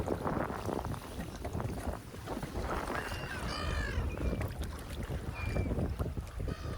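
Strong wind buffets a small fishing boat out at sea during pomfret fishing, a loud continuous roar and rumble with a few faint higher tones drifting through.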